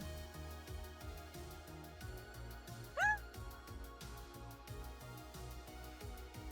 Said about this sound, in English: My cat over here. Because something just answered me.